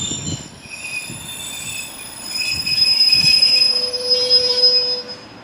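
A Northern passenger train bound for York pulls into a station, its wheels squealing high and steady against the rails as it slows, with a low rumble beneath and no voices.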